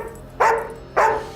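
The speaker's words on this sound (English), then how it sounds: "could you do that bark but a little sadder, please?" A dog gives two drawn-out, mournful barks about half a second apart, close and clear against a quiet background, auditioning for a big dog food brand's commercial.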